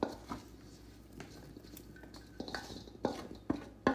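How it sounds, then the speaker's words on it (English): Coated puff corn tipped out of a bowl onto a sprayed baking sheet, with light clattering, scraping and a few sharp clinks of utensil against metal, close and fairly quiet. "Now I'm just gonna turn this out onto a baking sheet that I have"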